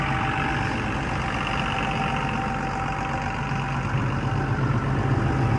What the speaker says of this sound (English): That Cummins engine just purring.